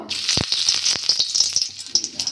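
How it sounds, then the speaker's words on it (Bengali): Neem leaves dropped into hot mustard oil crackle and sizzle close up, a bright spitting hiss dotted with quick pops over a couple of seconds, with no one speaking. "আমি নিম পাতা নিয়েছি তেলটা গরম হয়ে গেছে দিয়ে দেবো"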